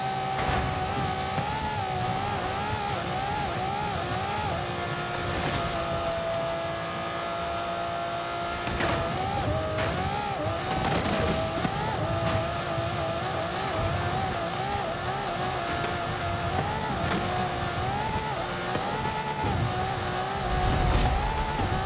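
A Lamborghini Murcielago and a level 7 Mercedes racing in Forza Horizon 5, engines droning and revving continuously with rising and falling pitch through gear changes, loud and sustained throughout.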